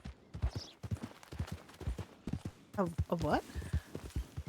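Horse hooves clip-clop at a steady walking pace in a role-play video game, with people talking over the top and a brief whinny-like tone partway through.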